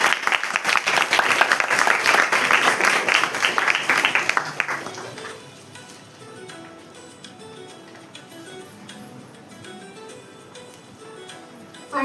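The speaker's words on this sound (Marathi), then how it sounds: "आणखीन एकदा सर्व विजयी विद्यार्थ्यांसाठी जोरदार टाळ्यांचा कडकडाट" Strong applause for the winning students at a Marathi language celebration ceremony, a dense burst of many hands clapping for about five seconds before it quickly dies away into quiet room murmur.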